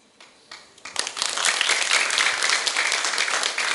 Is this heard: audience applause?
yes